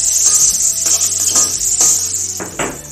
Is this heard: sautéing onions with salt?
yes